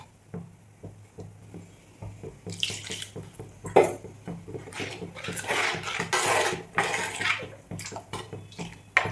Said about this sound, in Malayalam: ഇനി കുറച്ച് വെള്ളം കൂടെ ചേർക്കാം